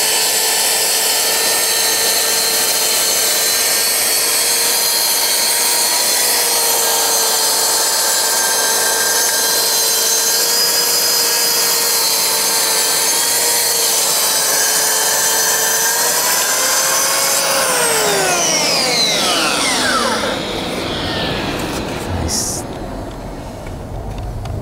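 A Mafell MT55cc plunge cut saw runs at full power through wood in a loud, steady whine with sustained harmonic tones, then spins down with a falling pitch near the end.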